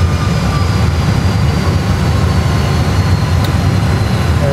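An airliner rolling out on the runway at Funchal, Madeira, under manual braking after reverse thrust is cancelled, heard from inside as a steady, loud, broadband roar and rumble with no voices.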